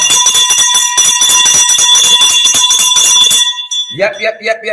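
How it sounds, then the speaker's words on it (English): A bell rings in a loud, dense run of rapid strikes with a steady high ringing tone, then cuts off abruptly and gives way to a voice speaking. "Ring the bell for you."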